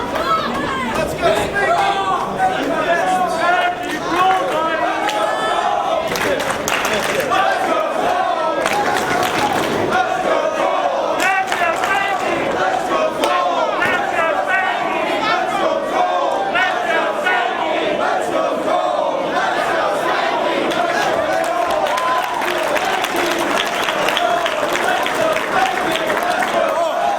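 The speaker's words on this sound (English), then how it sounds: "The crowd here in Dayton a little bit split" Wrestling crowd at an ROH Redemption event in Dayton, a dense, continuous arena roar of chatter, chanting and cheering that stays loud and steady throughout, with a brief swell of louder cheering partway through.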